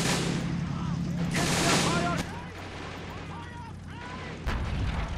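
Friendly mortars firing on enemy positions in a city during a battle game, muffled booms and a rumbling barrage under a dense, noisy mix with faint distant voices.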